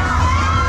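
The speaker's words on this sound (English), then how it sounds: "this is where the crowds are, guys, down this far section" Dense crowd murmur at The Hoppings 2023, a large outdoor funfair, with children's shouts and lively chatter blending into a continuous, close wash of noise.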